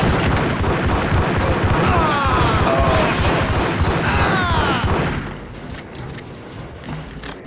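Gunfire in the Max Payne video game, dense and loud: a sustained barrage of overlapping shots and crashes that suddenly drops away to a quieter background near the end.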